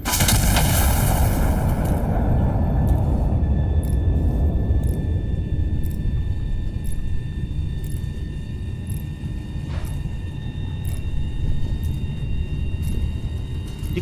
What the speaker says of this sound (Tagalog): Fire mission confirmed. Shell type HE.